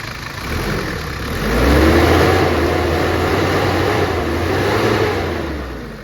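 A 2002 Mitsubishi Strada with a 2.8-litre diesel engine runs at a steady idle with a low, even drone. It swells slightly as if gently revved, then holds close and loud for the whole stretch with no voices.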